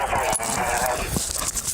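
A police dog sent in during a house search gives a few short, rough barks close by, mixed with scuffling and people talking.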